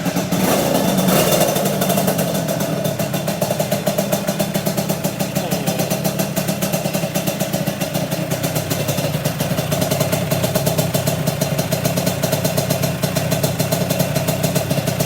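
A Yamaha Mio KR Auto scooter engine, started by hand, idles steadily and close by with a continuous mid-pitched putter and light mechanical clatter throughout, no voices over it.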